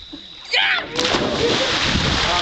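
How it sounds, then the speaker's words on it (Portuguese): A rope smacks into the water at a pipeline canal with a sudden loud splash, followed by continuing sloshing and rushing water. "a corda bateu na água"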